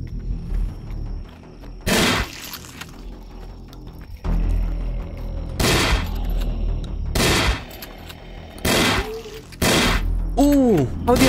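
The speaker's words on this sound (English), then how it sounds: "Okay, I like the shotgun," A shotgun in the co-op zombie VR game Requisition VR fires about five loud, booming blasts at uneven gaps, with voices and game noise underneath.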